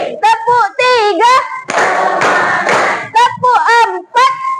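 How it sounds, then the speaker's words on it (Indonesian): Children in a classroom ice-breaking clapping game clap their hands in quick rhythmic bursts between chanted counting, with a longer stretch of loud group clapping in the middle. "Tepuk 1, tepuk 2, tepuk 3,"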